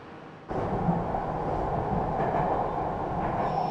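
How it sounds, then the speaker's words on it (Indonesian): Jakarta MRT subway train riding along, a steady close rumble and rolling hum inside the carriage that swells up after a quieter start and continues without talk. "Pertama kita itu naik MRT dari stasiun Haji Nawawi, terus kita turun di stasiun ASEAN."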